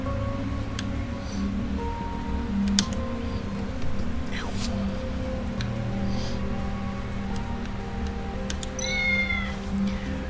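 A cat meows in the video game Tales of the Neon Sea, short mews scattered over a steady hum of background music, with a voice speaking at times.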